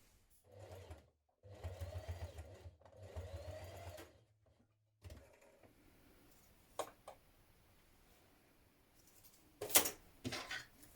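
A sewing machine top-stitches down either side of a backpack strap in short bursts of steady whirring, separated by pauses and followed by a few clicks and handling knocks.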